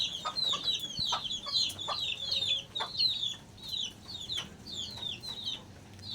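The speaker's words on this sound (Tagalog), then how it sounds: "Yun may manok tayo." Chickens cluck steadily under a hut in rural Bulacan, a busy, close run of repeated short clucks and calls overlapping one another, with a few soft knocks and no talking.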